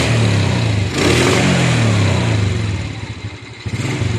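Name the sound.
Raider J motorcycle engine revving as throttle is squeezed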